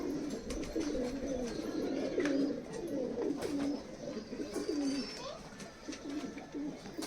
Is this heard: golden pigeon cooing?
yes